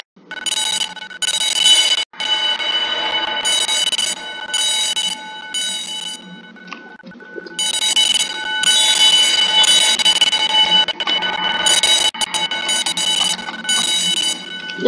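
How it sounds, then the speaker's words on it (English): A fire alarm in a Roblox Studio game sounds in repeated bursts of a harsh, bright electronic tone, cycling on and off steadily with short gaps, loud and close throughout with no talk. "That's how you wire a fire alarm system."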